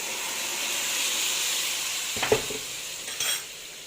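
Fried onions hiss softly in a pot as tomato juice is poured in for a cow trotter stew, a steady low sizzle broken by two short bursts of sharper spattering and a light clink of the pan.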